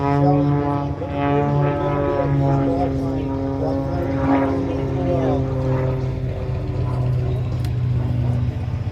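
Aerobatic propeller airplane flying past at the Brisbane Australia AirShow 2022, a loud, steady droning engine note with shifting pitch that holds for the whole stretch, with no speech heard.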